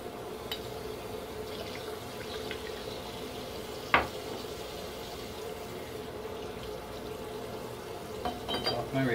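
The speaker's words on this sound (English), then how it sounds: "rinse out my mug" Faucet water running steadily at low level while a shaving mug is rinsed after a double-edged safety razor shave, with a sharp clink partway through and faint handling noises.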